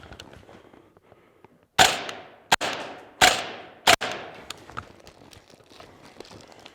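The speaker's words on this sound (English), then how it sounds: "I'm gonna shoot this target behind me real quick, put a little bit of accuracy on it for the head" UTM marking training rounds fired at a target during force-on-force training, four sharp close bangs in quick uneven succession, each trailing off in a short echo, with faint shuffling before and after.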